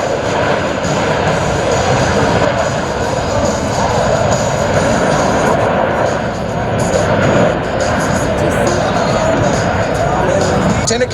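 U.S. Navy Blue Angels jets roar overhead at an air show in Columbus, a loud, sustained engine rumble that stays unbroken, mixed with crowd noise and an announcer speaking over it.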